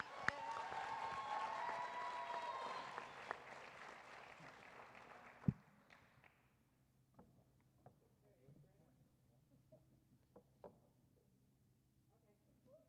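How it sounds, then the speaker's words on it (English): A school board meeting audience applauds two students. The faint, steady clapping lasts about five seconds, then stops abruptly, leaving a quiet room with a few scattered knocks and small noises. "Give them a round of applause"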